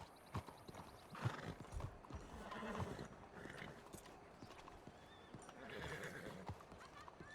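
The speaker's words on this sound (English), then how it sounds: "There's horses again" Horses in a Wild RP western game clop along in irregular hoof beats and give a couple of whinnies, with voices chatting faintly underneath.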